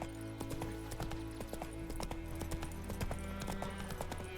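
Roach, Geralt's horse in The Witcher 3: Wild Hunt, gallops with a steady, rapid clip-clop of hooves, moderately loud over a low game background hum.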